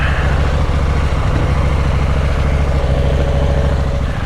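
A 2023 KTM 890 Duke parallel-twin engine drones at steady revs up close, a dense, unbroken low rumble with no pauses or talk.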